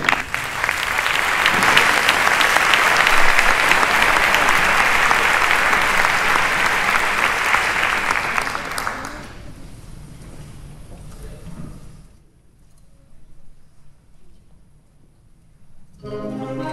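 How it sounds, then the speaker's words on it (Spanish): A concert audience applauds a wind band at a charity concert, dense sustained clapping for about nine seconds that fades out into quiet room tone, with faint sound returning at the end. "Un aplauso para nuestra banda de nuevo."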